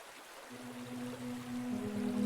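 A river flowing in a magical forest, heard as a steady wash of running water that starts soft and grows fuller, with a low sustained tone rising beneath it; no voices.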